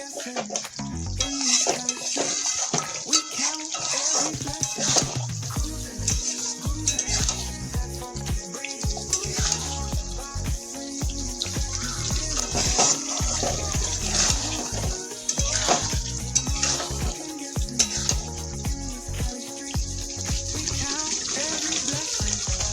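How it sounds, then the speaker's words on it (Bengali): Soybean and potato curry is stirred and fried in a pan, with a steady sizzle under repeated scraping and clanking of the spoon against the pan, loud and close, with occasional talk. "সামান্য এটাকে এখন একটু নাড়াচাড়া করে নেব"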